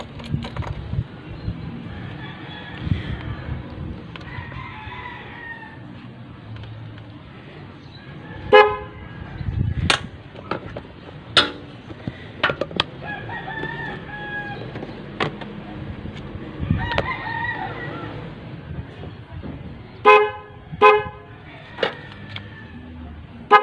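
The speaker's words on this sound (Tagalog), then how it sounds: "So test muna natin yung yung busina." A motorcycle horn newly wired with a passing light on a RUSI or Honda bike gives repeated short toots and a few longer honks, spaced irregularly over background noise and clicks.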